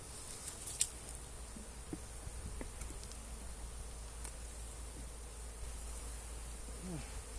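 Honey bees hum around an open hive during an inspection, a faint continuous drone with scattered wingbeat passes and small clicks, no talking.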